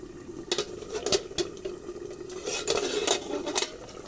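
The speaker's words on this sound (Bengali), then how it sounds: "এবার আমি ঢাকনাটা খুলে নেব" A metal lid clanks and rattles as it lifts off a pot of sea fish (tulor danti) that has simmered covered for about seven minutes, giving several close, sharp knocks over a soft bubbling background.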